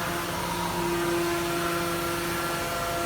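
A chain link fence making machine runs with a steady, loud mechanical drone and a constant hum. The sound is even for the whole stretch, and no one speaks.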